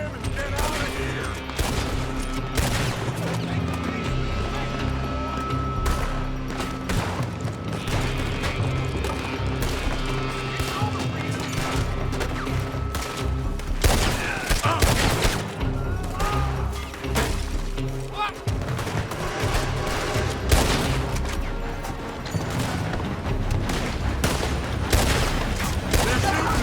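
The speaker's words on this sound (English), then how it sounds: "They're shooting from that building!" Gunfire from a Red Dead Redemption 2 shootout, dense bursts of shots and crashes in a steady, loud barrage lasting throughout, with a voice shouting over it.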